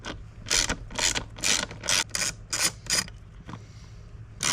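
A ratchet clicks in short bursts, about eight of them, close and clear, as bolts are unscrewed from the air filter housing of a 2024 VW Jetta.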